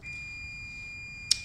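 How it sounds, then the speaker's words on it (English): A timer beeps with a thin, steady high electronic tone under a faint room hiss, ending in a brief sharper chirp near the end, quiet and close. "there's my timer going off here"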